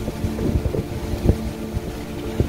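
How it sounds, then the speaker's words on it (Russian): Steady wind buffets the microphone outdoors by churches in Magdeburg, a continuous low rumble with occasional louder gusts and thumps, no voices. "Ветер, правда, сегодня."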